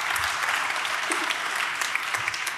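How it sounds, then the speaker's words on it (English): A conference audience applauds a speaker with steady, dense clapping that fills the whole stretch at moderate volume, a few louder claps standing out and no talk over it. "A great round of applause for Julia."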